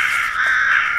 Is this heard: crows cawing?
yes